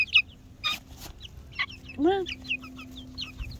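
Young chicken chicks about four weeks old give scattered high peeps and chirps, with one longer rising trill in the middle. Someone speaks briefly nearby.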